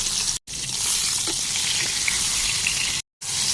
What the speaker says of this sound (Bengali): আমি একটু বেগুনগুলোকে ভেজে ফেলি